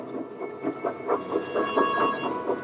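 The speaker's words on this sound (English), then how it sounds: "Donald set off with the breakdown train" A breakdown train rolls along the tracks with a rhythmic clickety-clack of wheels over rail joints, steady and fairly loud, repeating beats throughout with no voices.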